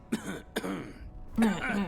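A character in Dragon Age: The Veilguard, said to have a cold, gives a few short raspy coughs and a throat-clearing sound, spaced out over two seconds, close and fairly loud with no speech.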